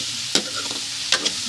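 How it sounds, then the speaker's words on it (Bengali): Spiced liver curry with turmeric and chili is stirred in a frying pan, two or three sharp close scrapes of a spoon over a steady sizzle. "এখন এটা নাড়াচাড়া করবো।"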